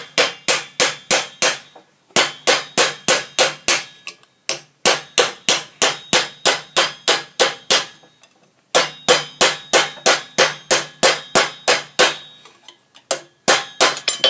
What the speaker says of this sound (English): So what I'm doing is I'm hammering into the void.